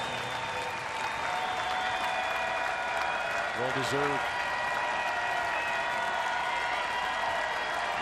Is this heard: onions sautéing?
no